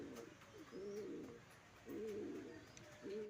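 Racing pigeon cooing at the loft after returning from a race, deep repeated coo phrases in three bursts, fairly close, over steady background ambience.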